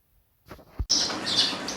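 Zebra finches, an Australian species kept as pets, give a burst of soft, high chirping after a near-silent start, mixed into a noisy wash of sound, close and moderately loud.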